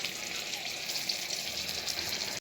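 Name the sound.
green chillies dipped in batter frying in oil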